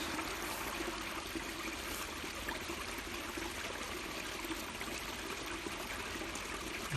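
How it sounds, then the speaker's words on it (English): Water trickles steadily as it is let out down to the meniscus during rural hydrographic field measurement, a continuous soft flowing hiss without pauses or voices. "So we are letting out water to the meniscus."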